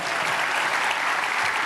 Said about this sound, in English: will you please rise and give a clean a round of applause?